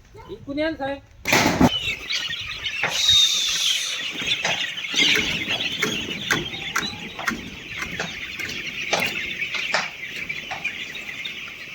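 Young poultry chicks in a poultry shed, a dense chorus of high peeping cheeps running throughout at close range, with someone speaking at the start.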